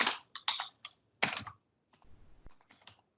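Computer keyboard typing in short bursts of rapid key clicks, close and fairly loud, with brief pauses between runs and softer scattered taps toward the end.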